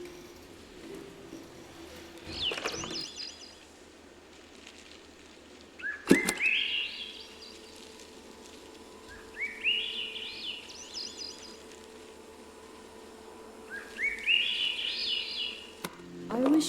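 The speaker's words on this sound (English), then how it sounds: "The birds." Outdoor birds chirping in short bursts of bright rising tweets, recurring about every four seconds, fairly close against a quiet background with a sharp knock or two.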